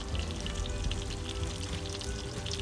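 Ingredients for shrimp fried rice frying in oil, a close, steady crackling sizzle that continues without pause.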